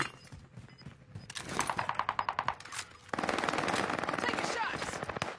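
Video game gunfire rattles in rapid automatic bursts, first a series of sharp repeated shots, then a dense sustained volley, with a player speaking over parts of it.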